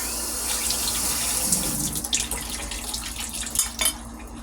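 A knife is rinsed under a running kitchen tap, with a steady close rush of water and a few light metallic clinks against the sink near the end, no one speaking.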